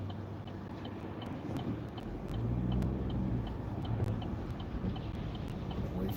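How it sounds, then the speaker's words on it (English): Cars pass through an intersection, a faint low rumble that swells as a vehicle goes by midway, with light wind noise and no talking. "Wait for this car to go by."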